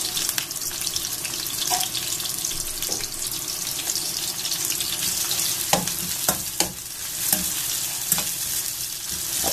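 Onions fry in hot oil with cinnamon sticks and cardamom pods for a Bangladeshi beef curry, a steady close sizzle broken by occasional scrapes and stirring knocks, with no talk.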